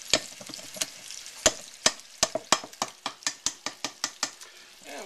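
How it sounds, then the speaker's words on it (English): A spoon scrapes and clacks against a bowl while biscuit mix is stirred in a home kitchen, a series of sharp, fairly regular knocks that speed up toward the end, close and clear with no talking. "we get this biscuit mix all stirred up like this"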